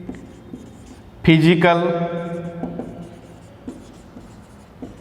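Marker or chalk scratching on a board during a classroom lecture on vector analysis, with faint strokes and taps throughout while the lecturer speaks briefly over them.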